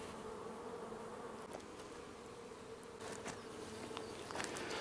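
Buzzing of a rose chafer beetle deep among the frames of a beehive, with bee hum mixed in, a steady low-level drone that swells slightly toward the end.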